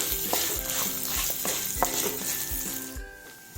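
Urad dal and dried red chillies fry in a pan for a ridge gourd thuvayal, a steady close sizzle broken by repeated sharp scraping strokes of a spatula stirring, with no talking.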